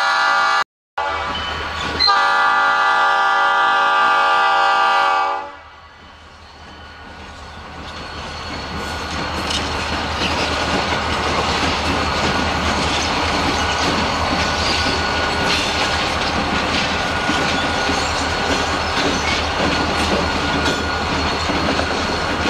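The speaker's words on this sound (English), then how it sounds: "it's no wonder why they had two locomotives for this train" Freight train hauled by two locomotives passes close by: a loud horn blast opens, then a steady rumble of railcars with rhythmic wheel clatter and squeal continues, growing louder and sustained to the end.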